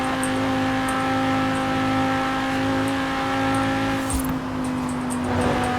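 A Lamborghini Gallardo V10 engine drones in Forza Horizon 4, a sustained steady tone at high speed with a brief dip and shift near the end, loud and close, with no talking.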